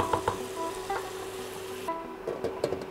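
Onion softening in oil over low heat in a Cecotec slow cooker makes a steady, soft sizzle. A few light stirring scrapes and clinks rise above it now and then, and no one speaks.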